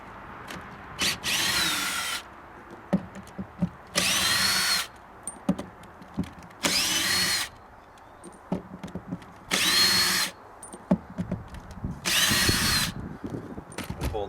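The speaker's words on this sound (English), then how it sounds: "I've got my bit set to the right size, I'm just going to simply remove the screws" A power drill backs screws out of a seat base in five short bursts of whirring, each about a second long, separated by quieter pauses with handling noises, fairly close and moderately loud.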